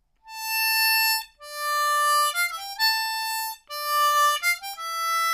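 Harmonica plays parts A and B2 of the Game of Thrones theme in succession, long held tones broken by quick stepping notes, a clean solo line played near with no talk over it.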